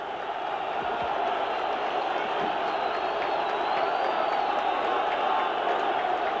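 Bulgarian stadium crowd roaring during a 1987 football qualifier against Ireland, a sustained loud wash of cheering with a few sharper whistles and shouts rising through it, steady from start to finish.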